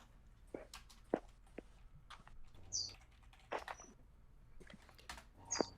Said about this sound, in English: I can hear the bird now.